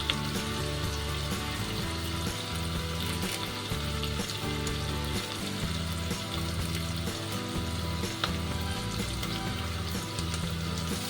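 Curry leaves hitting hot oil in a pan, with onion nearby, while cooking kadhi: a steady, dense crackling sizzle that fills the whole stretch, close and fairly loud, with no talk over it.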